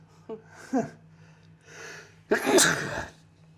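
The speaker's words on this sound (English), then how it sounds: "And I'm going to sneeze." A single loud sneeze after a couple of sharp breathy intakes, close and clear, with quiet room tone around it.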